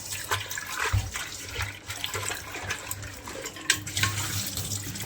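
Tap water runs steadily while a pressure cooker is washed by hand in a sink, a continuous close splashing hiss with occasional louder splashes and clatter, no talking.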